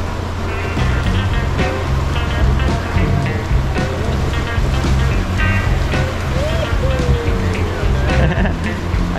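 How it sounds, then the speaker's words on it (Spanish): Tourist motorboats run across Lake Suchitlán toward Isla del Ermitaño, their steady engine drone blending with continuous splashing waves and wind, loud and close throughout. "Ahí van las lanchas."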